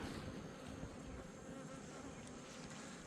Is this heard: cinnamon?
no